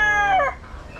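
A gamecock being readied for a cockfight gives a single loud, close crow, a rising drawn-out call that cuts off after half a second into quiet background.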